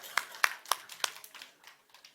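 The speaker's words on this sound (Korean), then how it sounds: "격려 박수" A short round of encouraging applause from a small group in a church service, several sharp claps spaced out then trailing off into lighter scattered claps.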